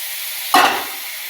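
Fried cauliflower lands in a pan of cooked fenugreek greens and peas, setting off one short, loud burst of sizzling that quickly fades back into a soft hiss.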